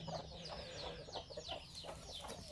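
Chickens raised in a semi-free-range Thai yard cluck softly and continuously in a faint, busy chorus with no talk.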